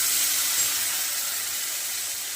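Water hits a hot pan of frying onion, tomato, ginger-garlic paste and dried chilli masala, giving a steady, close steam hiss that fades slightly over a couple of seconds, with no talking.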